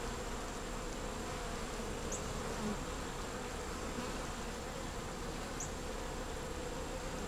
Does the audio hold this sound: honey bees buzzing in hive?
yes